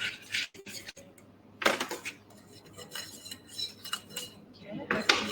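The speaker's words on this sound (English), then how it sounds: "all I'm going to do is use a whisk and just whisk it in" A metal whisk scrapes and clinks against a bowl as butterscotch is whisked into a dessert mixture, giving bursts of rattling strokes with short pauses, close and fairly loud.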